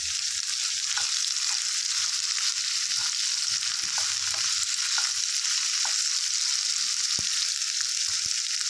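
Ginger pieces and chopped green chillies fry in a pan with a steady, close, even sizzle, broken by a few faint clicks of a utensil; no voices.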